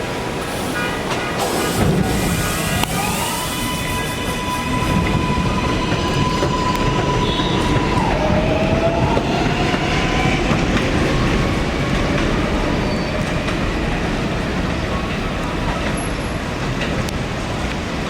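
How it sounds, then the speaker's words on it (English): An R142 local 4 subway train runs along the elevated Jerome Avenue line in New York, loud steady wheel rumble and clatter with a long rising and falling motor whine and occasional squeals, with no voices. "There is a local 4 train to Kingsbridge Avenue."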